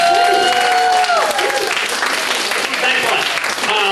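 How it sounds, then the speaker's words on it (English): Audience applause at an anime convention talk, loud and dense clapping that fills the room throughout, with a few voices mixed in. "A round of applause for everyone who liked that."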